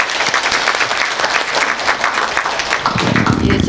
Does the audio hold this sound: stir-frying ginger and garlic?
no